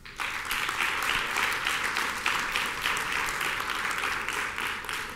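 A crowd at a human rights symposium claps enthusiastically, dense and sustained applause filling the whole stretch without letting up.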